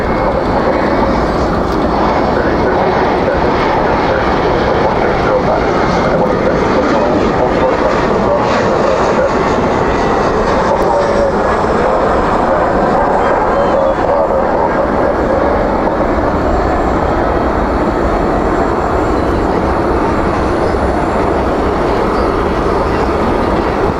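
At night at Dallas Fort Worth airport, an Embraer E175 jet touches down with its thrust reversers deployed, producing a loud, continuous broadband roar that holds steady with no break.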